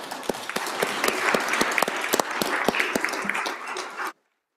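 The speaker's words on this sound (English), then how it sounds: "would like for you to recognize them with your applause." Applause for visiting Farm Bureau members fills a state House chamber during a floor session, dense clapping from many hands with sharp individual claps standing out, then stopping abruptly.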